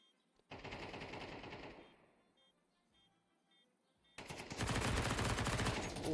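Automatic gunfire sprays in a Counter-Strike match at PGL Bucharest 2025: a long, loud rattling burst, a quieter lull, then a second heavy sustained spray.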